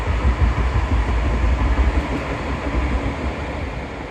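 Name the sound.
tram passing in city street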